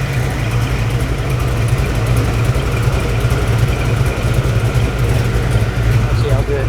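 A 2009 Corvette ZR1 engine fitted with a Kong performance 2.3L blower cranks and runs roughly, a loud continuous low rumble that holds steady throughout.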